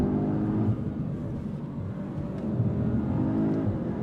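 2025 Audi S3 with torque vectoring on a spirited drive, heard from inside the cabin as a steady, fairly loud engine and road drone with slight surges, no talk.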